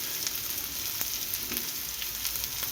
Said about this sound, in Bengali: কাঁচামরিচটা একটু ভাজা ভাজা হয়ে যাবে